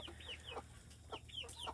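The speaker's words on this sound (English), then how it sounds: "He is the very first chicken that was hatched from an egg on this farm" An all-black farm rooster, the first chick hatched on the farm, gives soft scattered clucks and short chirpy calls, fairly faint and close, alone with a low hum beneath.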